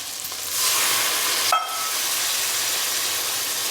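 Spiced fish frying in hot oil over high heat for a home-style fish curry: a loud, steady sizzle that swells and stays dense, broken by one brief metallic clink partway through, with no talking.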